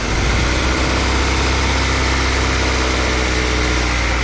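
Honda Civic EK idling with the AC compressor clutch engaged, a loud, steady engine drone and hum heard close up under the hood with no talking.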